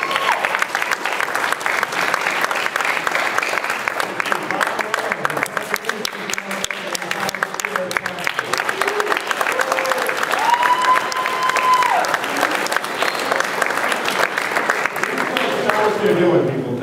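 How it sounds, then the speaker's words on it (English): Audience applause at a Success Boston event honouring coaching organisations, sustained loud clapping from a large crowd for the whole stretch, with a voice talking briefly beneath it. "give a great round of applause"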